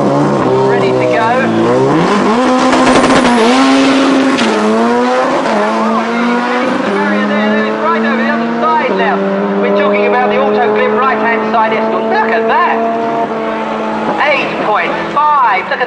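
A turbocharged Mk1 Ford Escort drag car with a C20XE engine launches down the strip at a Ford Fest event. The loud engine howls up through several gear changes, with a commentator's voice over the roar.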